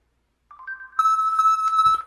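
A Moto X Pure Edition phone's find-my-phone ringtone starts as a soft tone, then swells into a loud, steady electronic ringing with bright overtones, close and alone.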